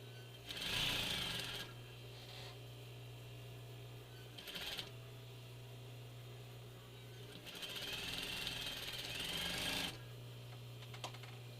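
A sewing machine stitches a narrow seam on a medical face mask, whirring in three close bursts, short, brief and then longer, over a steady low hum from the motor.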